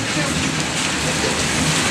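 Heavy rain pours down in a dense, steady hiss, close and loud throughout.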